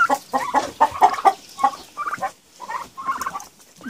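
Young turkeys, about seven to eight weeks old, call from their pen in a rapid series of close, chirping and clucking notes that come in quick clusters with brief pauses.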